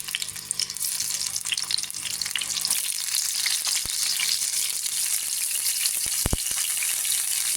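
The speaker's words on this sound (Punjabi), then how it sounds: "ਤੇਲ ਹੋ ਗਿਆ ਆਪਣਾ ਗਰਮ ਤੇਲ ਭੁੰਨ ਲਾਂਗੇ ਆਪਾਂ ਟਮਾਟਰਾਂ" Tomato halves sizzle in hot oil in a pan for a radish and tomato chutney, a loud, steady, crackling fry that runs unbroken throughout with no voices.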